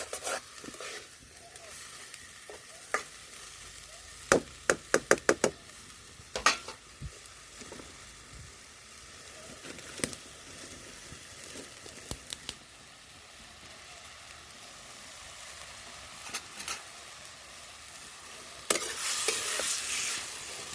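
Potatoes with spices stir-fried in a pan for a plantain kofta curry, a steady low sizzle with scattered scraping strokes of a spoon against the pan, a brief cluster of sharper knocks early on and louder hissing near the end.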